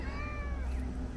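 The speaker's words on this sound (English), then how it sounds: "But getting the kitties out one last time to let them get some fresh air." A cat meows outdoors on a truck camper trip in Guatemala City, giving one drawn-out, wavering meow over steady low background rumble and ambient noise.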